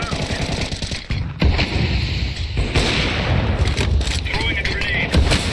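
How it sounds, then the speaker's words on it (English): Counter-Strike 2 gameplay with heavy gunfire and explosive blasts, including a thrown grenade going off, dense rapid shots and booms filling the whole stretch, with voices mixed in. "Grenade out."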